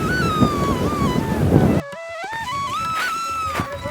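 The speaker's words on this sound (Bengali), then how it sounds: "জলের স্রোতটা দেখুন, নিচে পাইপ দেওয়া আছে" Rushing water current pours over pipes laid beneath it at the Joydeb Kenduli fair. A loud, steady broadband rush fills the first couple of seconds, then drops away abruptly, leaving a quieter wash with high whistling tones above it.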